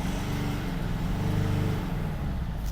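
A Mercedes C-Class engine held at a steady rev of about 3,000 RPM, a continuous low engine drone that stays level throughout with no talk.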